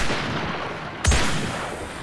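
One sharp, loud blaster shot cracks out in Star Wars Battlefront 2 multiplayer, a single booming report with a short tail over a steady hiss of battlefield ambience.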